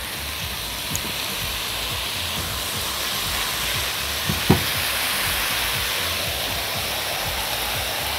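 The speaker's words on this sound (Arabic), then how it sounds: "اول ما اشم ريحه البصل طلعت كده تمام هحط على طول الثوم من فوق" Garlic dropped onto onions already frying in a pan, giving a steady, loud, hissing sizzle like rain that runs unbroken throughout, with one or two small clicks from the pan near the middle.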